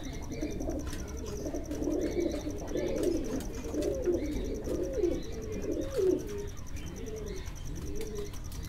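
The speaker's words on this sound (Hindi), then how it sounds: "ये कबूतर है बहुत आला कबूतर माशाल्लाह" A pigeon coos in a series of low, rolling calls close by, repeating at roughly one-second intervals, with faint chirps and background hum and no talking.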